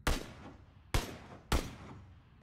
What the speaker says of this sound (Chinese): 谁在开枪？